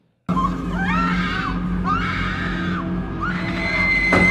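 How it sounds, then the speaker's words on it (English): Chilling screams fill the Mulholland Drive film soundtrack: three long, rising and falling wails, loud and close, over a steady low drone. "the soundtrack begins to fill with this chilling screaming"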